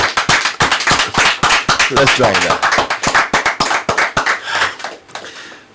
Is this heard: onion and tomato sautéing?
no